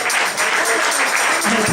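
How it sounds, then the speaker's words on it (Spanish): Church congregation giving a sustained round of applause, dense steady clapping filling the room throughout, no voices standing out. "Regálele otra ofrenda de palmas al Señor"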